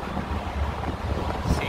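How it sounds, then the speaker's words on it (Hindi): Steady wind rushes across an open upper deck of a ship at sunset, a continuous close blustery roar buffeting the microphone with faint sea wash beneath and no talking. "बहुत अच्छी हवा चल रही है"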